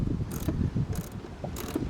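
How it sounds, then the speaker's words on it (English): Ratchet clicking steadily while tightening 10mm bolts on the radiator reservoir of a Lexus GX460, close and moderately loud, with three brief brighter bursts spaced evenly over the low mechanical rattle. "I'm just gonna go ahead and start tightening these things down"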